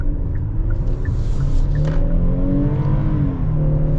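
A 2023 Hyundai Palisade Calligraphy with its 3.8-liter V6 pulls hard in sport mode. The engine note climbs steadily and loud for the whole stretch, layered over a low road rumble and a rising whir.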